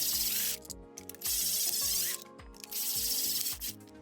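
Power gun spinning tight metal bolts out of a Traxxas Sledge RC truck, several loud bursts of ratcheting whir that stop and restart in a choppy rhythm, close to the microphone.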